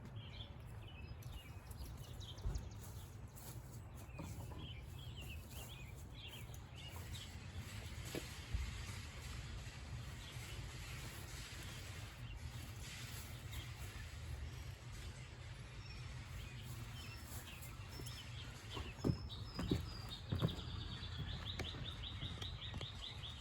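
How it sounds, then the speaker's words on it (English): Faint birdsong and chirps outdoors over a low steady rumble, with a few brighter calls near the end. "enjoy listening to the birds"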